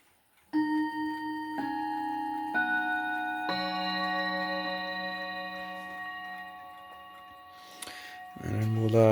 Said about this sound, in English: I'll also give this one a quick chime